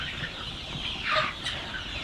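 Chickens on a poultry farm cluck softly against a steady barn background, with one brief louder squawk near the middle.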